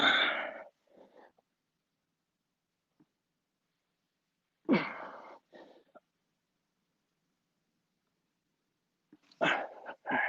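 Dogs at a home bark in three separate sharp bursts spaced a few seconds apart, close and fairly loud, with silence between them and no talking.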